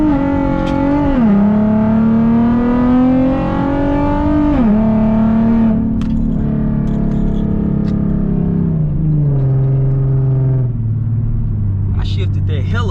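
Nissan 370Z with a Tomei exhaust accelerating hard from inside the cabin, its loud engine note climbing through first gear, dropping on a quick shift to second, then pulling again and easing off, with a voice speaking over it.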